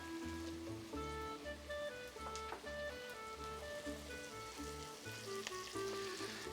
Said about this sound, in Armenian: միսը սոխի հետ արդեն տապակենք